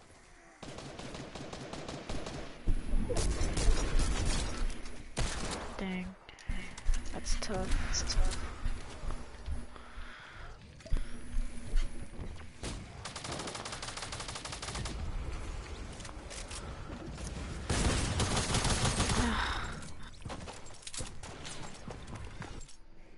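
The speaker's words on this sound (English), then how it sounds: "But the infantry rifle is honestly my gun" Infantry rifle gunshots during a trick-shooting attempt, loud sharp reports scattered through the clip with bursts of louder activity, under frequent casual talk from the shooters.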